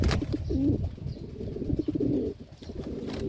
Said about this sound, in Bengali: আর একটা নর যে পাগলা উপরে ডেকে বেড়াচ্ছে